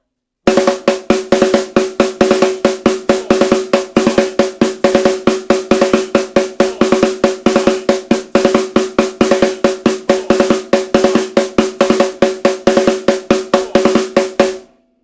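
Snare drum alone plays a repeating phrase of 4, 4, 5 and 3 strokes, crisp and close, with sharp evenly spaced hits and brief accents throughout.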